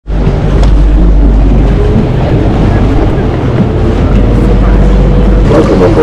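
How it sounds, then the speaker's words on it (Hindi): A canal boat ride in Bruges, Belgium, with a constant low engine rumble, water wash and wind buffeting the mic, loud and close, and voices talking faintly over it. "It's time for boat ride, आधे घंटे की है, 15 यूरो।"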